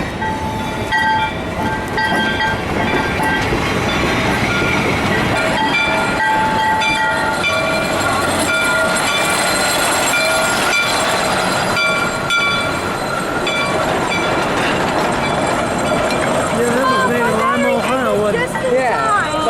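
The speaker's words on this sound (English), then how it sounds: "we then saw Western Maryland number 6 pull into the depot with its last train of the day" Western Maryland steam locomotive number 6 arriving at a depot with its last train of the day: a loud, continuous rumble of cars with sustained whistle tones, people talking over it throughout.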